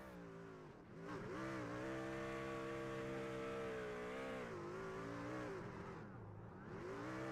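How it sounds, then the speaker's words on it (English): A race car roars through reverse burnouts at Las Vegas Motor Speedway during a practice race, its engine holding a loud, sustained rev with wavering pitch for several seconds, dipping briefly before climbing back up, close and continuous. "We're doing reverse burnouts here."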